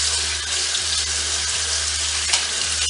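Tap water runs steadily from a faucet into a sink as a hand is rinsed, a continuous close hiss with a low hum beneath and no talking.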